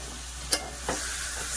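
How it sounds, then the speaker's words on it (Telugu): Onions frying in a pan are stirred, giving a sharp scrape and a second softer swipe over a steady close sizzle. "ఇది ఉల్లిపాయలు బాగా మగ్గాలండి, బాగా కలపండి."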